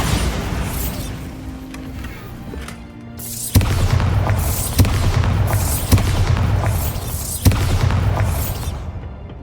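Bombarda blasting spell explosions going off in Hogwarts Legacy, a series of loud, heavy booms at regular intervals, each a sharp low thump followed by crackling debris, after a quieter rumbling stretch with no talk.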